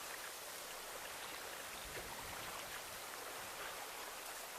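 Steady broadband rush of river water flowing by, continuous and even like a stream or light rain, fairly close with no voices over it.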